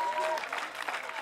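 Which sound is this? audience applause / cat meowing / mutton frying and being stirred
audience applause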